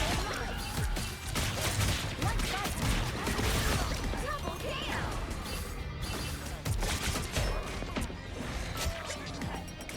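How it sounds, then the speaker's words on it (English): A firework-themed skin's ultimate in the video game Marvel Rivals fills the mix with dense, continuous crackling bangs and pops amid chaotic game noise and voices. "It's just too satisfying when we get the firework noises on people."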